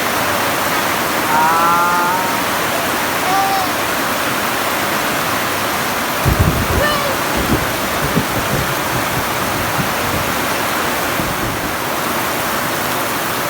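Steady rain pours down as a dense, even hiss, continuous and close, with a few brief low knocks partway through and no talk.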